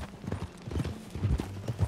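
Horse hooves clip-clop at a walking pace while riding in Red Dead Redemption 2, with close, fairly quiet, irregular footfalls on a dirt trail.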